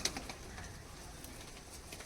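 Teddy pigeons in a loft coo faintly over a steady background hiss, soft repeated calls spread through the short stretch with no clear voices.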